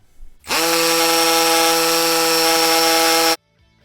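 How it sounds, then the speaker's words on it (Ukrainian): Leader Ultra 20V impact drill boring a 6 mm hole into concrete, a loud, steady high-pitched motor whine with hammering buzz that starts abruptly, holds for about three seconds, then cuts off sharply. "Хочу реально спробувати, чи просверлив він в тому камні отвір."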